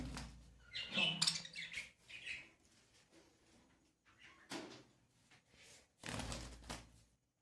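Chicks chirping in a home enclosure, high peeping calls coming in short bursts with soft knocks and handling noise between them, fairly close and moderately loud.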